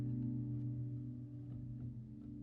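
A dry piano, miked and run through plugins with no reverb, holds a quiet sustained low chord that fades slowly, alone and close.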